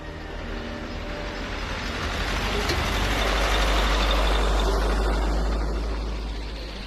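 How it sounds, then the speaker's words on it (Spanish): A truck rumbling past on a road beside palm oil plantations near an Indigenous village, a heavy low engine drone swelling as it nears and fading as it moves away, no talking. "no cesa el trasiego de camiones"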